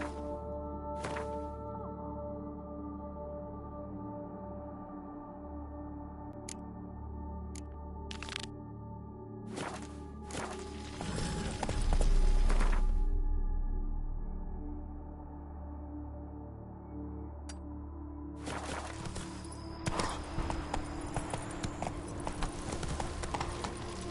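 Roach the horse gallops in The Witcher 3, a steady clip-clop of hooves running under game ambience, with a few sharper hoof strikes and a louder burst midway.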